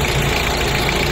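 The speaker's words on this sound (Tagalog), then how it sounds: "bakit nga ba mas maingay ang diesel engine kesa sa di gasolina" A diesel engine running steadily at idle, close up and loud, with a dense, rattly knocking drone that holds unchanged throughout and no voices.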